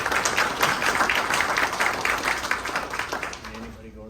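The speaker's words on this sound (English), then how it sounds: "let's give them a big round of applause," Audience applause at a racing team's driver of the year awards, a dense burst of clapping that starts strong and fades toward the end, with a voice coming in over it as it dies away.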